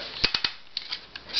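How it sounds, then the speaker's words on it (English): A Drozd Baikal Bumblebee air gun fires a quick three-shot burst of sharp, close clicks, followed by a few fainter, spaced ticks, with no talking. "Here's the 3 shot."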